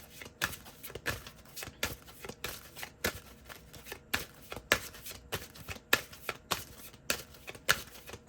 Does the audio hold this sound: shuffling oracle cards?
yes